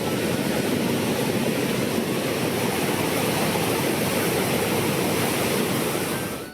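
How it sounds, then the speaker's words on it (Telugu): Polluru waterfall near Mothugudem, Andhra Pradesh, in flood, roaring as a dense, steady wash of rushing water that stays loud and unbroken throughout, with no voices. "ప్రస్తుతం ఈ జలపాతం ఉప్పొంగి ప్రవహిస్తోంది."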